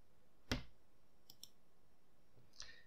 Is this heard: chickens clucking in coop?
no